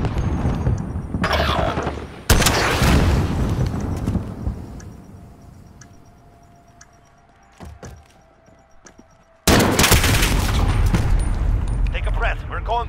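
Gunfire in the video game Call of Duty: Modern Warfare comes in loud bursts of rapid shots at the start and again near the end, with a quieter stretch of a few isolated thuds between them.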